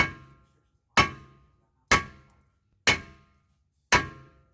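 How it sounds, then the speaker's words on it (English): A sledgehammer bangs on a seized rear brake rotor of a 2014 Kia Sportage, five loud, evenly spaced metallic clanks about a second apart, each ringing briefly before fading, with no speech. "take my sledge, banged around, banged around, banged around"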